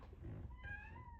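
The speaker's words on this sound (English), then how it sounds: "My cat is being so crazy right now." A pet cat meows loudly nearby, one drawn-out, rising meow that follows a short stretch of low room rumble.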